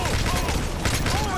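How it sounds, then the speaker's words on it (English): Sustained bursts of automatic gunfire lay down cover fire in the Modern Warfare 3 campaign mission The Fall of Paris, a loud, dense barrage running the whole moment with shouted voices mixed in. "Toss, Prince, lay down cover fire."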